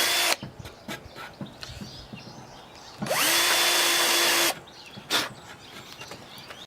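A power drill drilling into an RC car ramp whirs steadily for about a second and a half, revving with a rising whine, framed by clicks and handling noise before and after.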